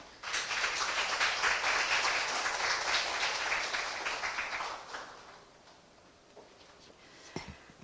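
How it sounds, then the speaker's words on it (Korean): An audience applauds to welcome a former Ewha Womans University president to a lecture hall, a sustained, even clapping that holds for about five seconds, then fades into room quiet with a few small knocks. "큰 박수로 김선욱 총장님을 모시겠습니다"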